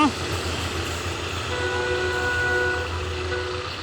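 A diesel railcar express train, number 71, pulls out of Ayutthaya station with a steady loud rumble of engine and wheels and sustained tonal hums, close and continuous.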